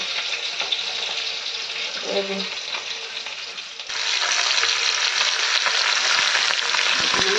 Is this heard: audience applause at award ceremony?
no